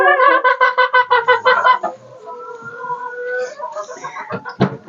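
Hens cluck close by in a rapid run of loud, throaty calls, then trail into softer, drawn-out murmurs and a few sharp squawks.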